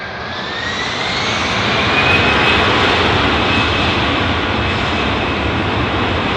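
A turboprop airliner, likely a Dash 8, at Munich Airport gives a loud, steady propeller-engine roar with a rising whine that swells over several seconds.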